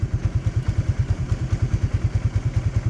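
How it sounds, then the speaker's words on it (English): A motorcycle engine putters steadily at low revs as the bike begins moving off under gentle throttle, its even thumping pulses close and moderately loud, no voices. "So once the bike starts to move,"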